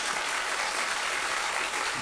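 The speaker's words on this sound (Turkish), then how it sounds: "çok büyük alkış geldi sana bugün." Studio audience on a Turkish daytime talk show breaks into steady, dense applause, a loud continuous wash of clapping with no voices over it.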